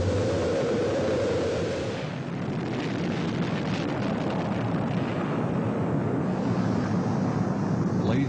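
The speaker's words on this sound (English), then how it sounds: "We have main engine start." Archival launch footage of rocket main engines igniting: a dense, continuous roar that swells and holds steady at full loudness, with no voices.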